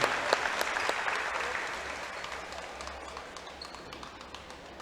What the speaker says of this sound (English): Let's give one more round of applause for Caroline Summerford Peyton